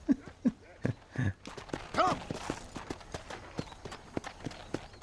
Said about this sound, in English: Oh, it's a horse.